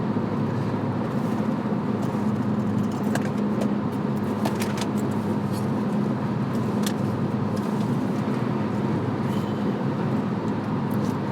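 Car driving in light traffic, a steady, loud road rumble and engine hum with a few faint clicks and passing noises, no talking.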